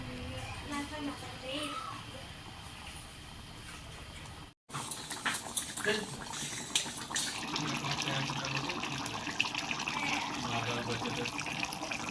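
Water poured into a pot of baim fish curry with potatoes and fried spices, a steady close splashing pour with a brief break partway, then a louder continuous rush.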